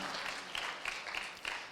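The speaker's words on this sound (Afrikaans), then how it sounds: "Kom aan, klap vir Jesus." A church congregation claps for Jesus during a sermon, a soft, steady patter of many hands with a few sharper claps standing out, heard at moderate distance and fairly faint.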